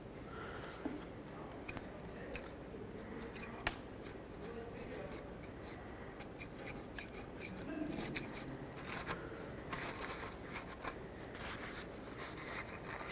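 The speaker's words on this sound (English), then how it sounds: "Going to use a brand new razor blade to scrape things off." A brand new razor blade scrapes debris off the rear wheel hub of a 2003-2021 Chevy Express 3500 van, a faint series of short, irregular scratching strokes with small clicks, fairly close and quiet.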